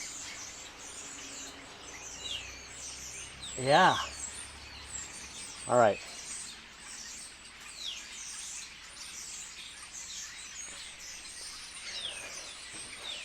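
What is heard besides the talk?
starlings singing outdoors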